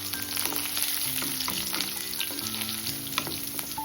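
About twenty chopped garlic cloves with cumin and fennel seeds fry in hot oil for mutton pepper fry. The sizzle is dense and continuous, with light stirring scrapes, close and steady, and no voices.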